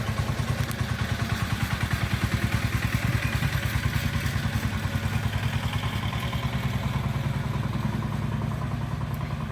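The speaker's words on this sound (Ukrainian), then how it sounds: "Зараз приїде трактор." A tractor running near a garden, its engine throbbing in a fast, even low pulse with rattling clatter on top, steady and fairly loud throughout, with no one talking.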